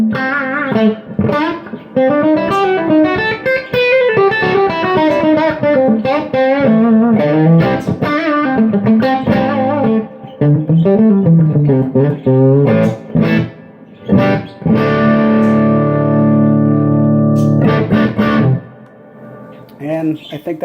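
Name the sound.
electric guitar amp overdrive breakup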